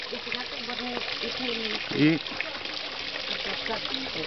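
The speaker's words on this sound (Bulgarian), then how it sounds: "Ще виждаме една водичка, течаща." A small stream of water trickling along a garden path in Balchik, a steady close babble running under people talking throughout.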